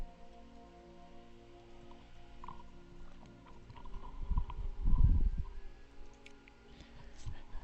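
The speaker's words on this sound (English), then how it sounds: "Ah, the rain again." Steady video-game rain patters evenly throughout, swelling briefly into a louder, rumbling burst midway before settling back to a soft, continuous hiss, with no talking.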